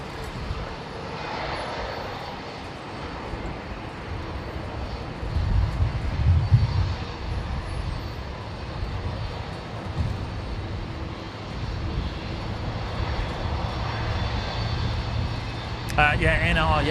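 A Saab turboprop arriving from Toowoomba approaches Brisbane Airport, its engine drone swelling and fading at a distance under a constant outdoor rumble while people talk now and then.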